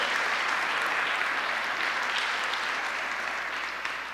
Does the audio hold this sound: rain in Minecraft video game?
no